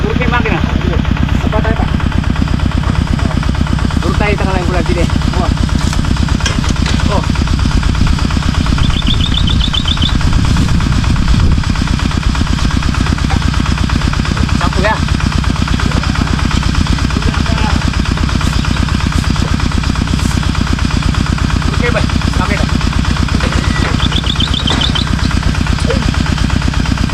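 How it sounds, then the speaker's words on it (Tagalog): A farm machine's engine runs loud and close, a continuous rough mechanical drone with a few faint sharp clanks and voices mixed in now and then. "Turut niya yung makina."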